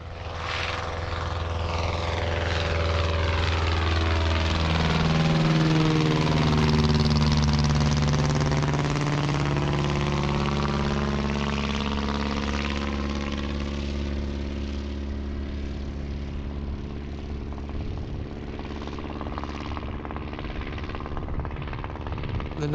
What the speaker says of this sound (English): See the noise of that plane, folks?